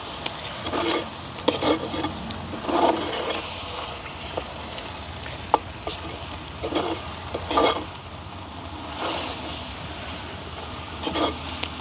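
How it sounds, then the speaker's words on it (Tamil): Fried garlic is stirred into a garlic devel dish in a pan, giving irregular bursts of scraping and stirring over a low, continuous sizzle. "பொரித்து வச்சுருக்கிற உள்ளியை வந்து இதோட சேர்த்துக்கொள்ளுவோம். நல்ல வடிவாக பிரட்டி விடுவோம்."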